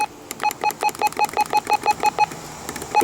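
A series of short, high electronic button beeps from a Honeywell RN507W radio in quick, regular succession, then a pause and a final beep, close and clear.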